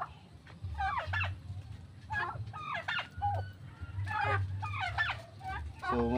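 Pet turkeys on a farm range area gobble and call repeatedly in bursts, fairly near, over a low rumbling background, alongside other fowl clucking.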